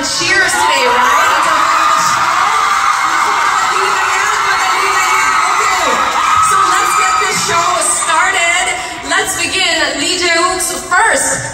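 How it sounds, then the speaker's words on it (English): A live fan-meeting audience cheers and screams for an actor, a dense, loud crowd roar with high whoops and shouts running throughout without pause. "we can give him our loudest applause and cheers today"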